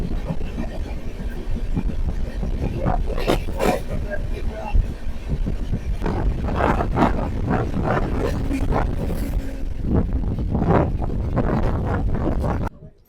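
The Jharkhand Sampark Kranti Express overtakes the Howrah Kalka Netaji Express on the approach to Pandit Deen Dayal Upadhyaya Junction, heard as a loud, sustained rumbling roar with wind buffeting the microphone, running nearly throughout before cutting off abruptly.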